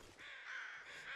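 A crow caws in the survival game The Long Dark, one drawn-out, harsh call stretching over about a second, faint and somewhat distant against quiet wilderness ambience.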